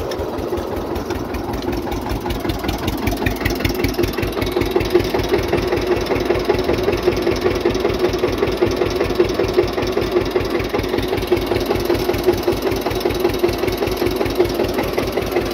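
A tractor's diesel engine chugs steadily at idle with a rapid, even knocking pulse, close and constant for the whole stretch, no voices.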